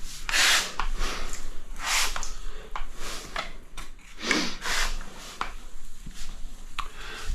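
A wet wash sponge rubbed over tile grout lines, repeated scrubbing strokes in an uneven rhythm, fairly close and moderate in loudness with no talking.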